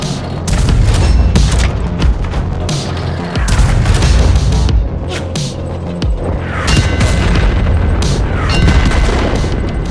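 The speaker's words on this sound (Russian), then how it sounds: "Мощные прилеты." Tank shells strike and explode against an armored tank in a war game, heavy booming impacts layered over a continuous loud rumble with repeated blasts, close and dense, with no talking.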